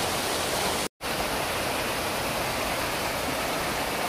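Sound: Ranajilleda waterfall in forest, Araku Valley

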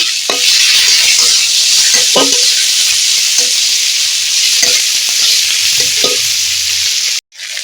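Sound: ginger paste and spices frying and being stirred

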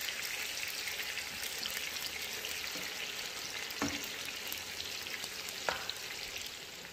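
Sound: eggplant frying and browning in a pan for adobo

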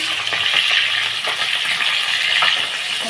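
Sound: fish head frying in oil in a wok

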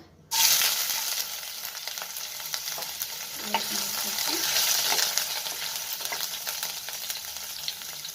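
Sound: chopped garlic frying in hot oil

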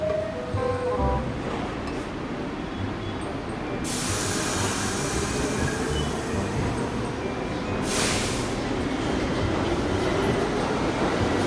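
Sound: subway train running

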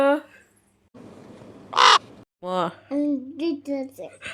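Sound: crow cawing

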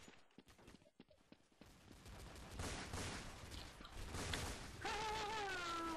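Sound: gunfire in video game Counter-Strike

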